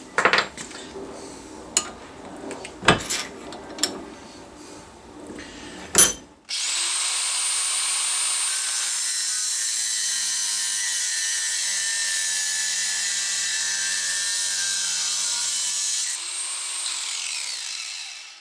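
Facing cut on the end of a brake master cylinder push rod on a mill-turn machine: several sharp metallic clanks and taps, then a loud, steady high-pitched cutting whine that holds for about ten seconds before tapering off.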